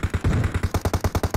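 Rapid gunfire in a PUBG Mobile match: a fast, evenly spaced string of sharp shots, about a dozen in quick succession, loud and close.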